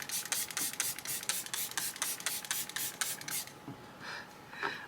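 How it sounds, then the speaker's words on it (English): An LA Girl setting spray bottle with powder inside is shaken hard, producing a fast, even series of loud rattling swishes for several seconds, then a few softer spray-like hisses. "you really have to shake this because there's powder in here"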